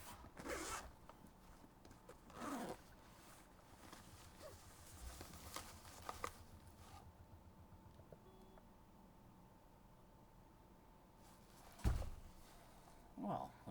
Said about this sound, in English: They've hidden the zippers very well.